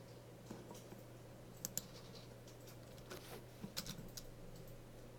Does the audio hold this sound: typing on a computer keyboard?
yes